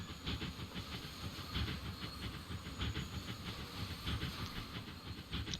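A steam train in the railway simulation game Transport Fever 2 hisses steadily under a rapid, rhythmic chuffing pulse, a continuous close wash of steam with no talk over it.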